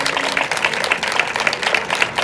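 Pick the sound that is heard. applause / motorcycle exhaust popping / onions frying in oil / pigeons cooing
applause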